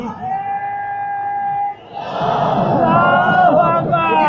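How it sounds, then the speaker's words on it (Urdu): A large gathering at a religious sermon bursts into a loud collective chant after a lone sustained voice leads the call, the crowd's voices swelling and holding strongly. "میرا دل ہے تو ایک نعرہ لاویں نا"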